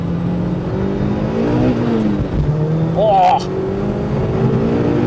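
A supercharged Mazda MX5 Miata accelerates hard from inside the cabin, a steady engine drone climbing in pitch with a gear change midway, while the driver exclaims over it.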